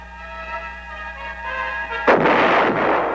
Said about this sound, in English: The big mobile guns continued to do their share in dispersing the enemy.